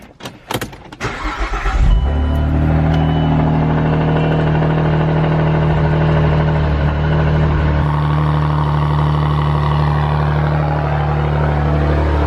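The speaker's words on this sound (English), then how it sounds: "So I'll go ahead and start this one up here." A loud, straight-piped Saab 9-3 engine cranks and catches with a burst of revs, then settles into a deep, steady, rumbling idle that continues close by.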